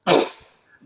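A single loud, close sneeze bursts out, a sharp broadband blast that trails off quickly, followed by a brief faint voice at the end.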